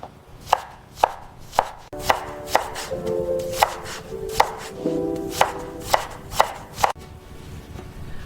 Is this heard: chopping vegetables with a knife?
yes